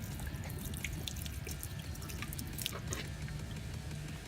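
Water poured onto a JADE Quartz ceramic-coated surface treated with Reboot gives a steady, faint trickle and splash, with scattered drips, running throughout.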